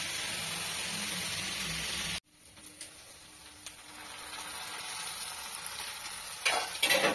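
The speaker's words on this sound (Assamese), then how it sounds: "এয়া আমাৰ ড্ৰাই ফ্ৰাই বনি আছে" Duck meat dry-frying in oil in a home kitchen, a steady loud sizzle that cuts off abruptly, followed by quieter crackling, stirring scrapes and clinks that build back up toward the end.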